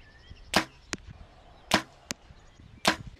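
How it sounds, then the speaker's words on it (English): Three sharp arrow impacts from a bow striking a target at 25 meters, evenly spaced about a second apart, each loud thud followed by a fainter short knock, with no talking. "I now shot 3 arrows and they were accurate."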